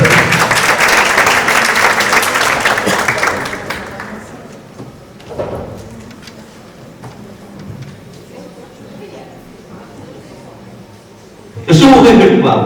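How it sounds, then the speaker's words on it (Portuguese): Loud audience applause at a live show, a dense burst of many hands clapping that fades away over several seconds; quieter room sounds follow, then another sharp burst of clapping at the end. "Uma grande salva de palmas para os dois."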